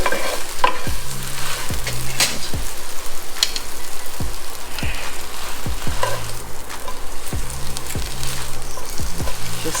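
Mashed bean curd and a dash of sugar are mixed by hand, giving a loud, continuous wet sizzle-like texture broken by repeated knocks and scrapes of a utensil against the bowl in a steady rhythm.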